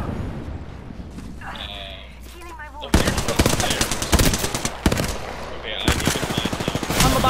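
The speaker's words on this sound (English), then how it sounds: "Hey, I'm getting shot." Gunfire in a shooter video game breaks out after a few quieter seconds as loud, rapid automatic bursts, with brief gaps between strings of close, crackling shots.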